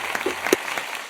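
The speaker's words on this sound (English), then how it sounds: "can we get an applause for the Cards this season?" A brief, sparse round of claps from a small audience applauding the Cards team's season, a handful of scattered hand claps over about a second.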